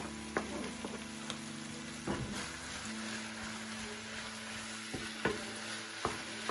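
Steady sizzling and frying of minced meat and tomatoes in a pan, with occasional scraping clicks of a utensil stirring, continuous and close, with faint background hum.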